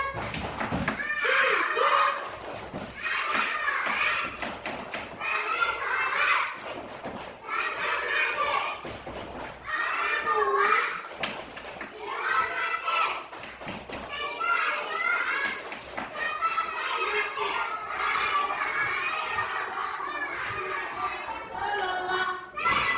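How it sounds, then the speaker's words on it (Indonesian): Schoolchildren in a classroom chant the 'tepuk anak soleh' clapping rhyme together, a steady loud stream of young voices with soft hand claps mixed in throughout, continuous and close. "Yuk, kita tepuk anak soleh dulu. Tepuk anak soleh."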